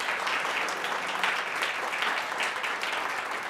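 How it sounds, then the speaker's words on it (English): Loud, sustained applause fills a city council meeting chamber, a dense unbroken wash of many hands clapping close by for the whole stretch, with no voices rising above it. "That applause is loud from right there."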